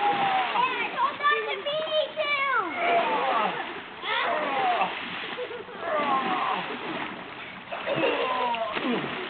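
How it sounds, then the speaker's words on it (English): Children swimming and splashing in a backyard pool, with steady splashing and excited young voices and squeals carrying over the water throughout, lively and close. "Swimming in the pool."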